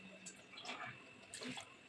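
Water splashes and gurgles in short bursts as it is poured into a pot of mutton for gravy, close by, with faint background hiss.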